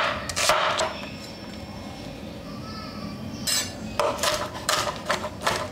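A half white onion being cut into pieces on a cutting board, several sharp knife chops in two bursts, the first a quick pair and the later a rapid run of close, loud strokes.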